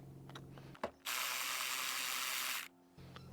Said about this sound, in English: So we're using a 12mm socket here, 12mm nut on the negative terminal.